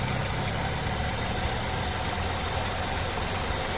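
A car engine idles steadily with the vehicle switched on, a continuous low mechanical hum and vibration with no talk over it.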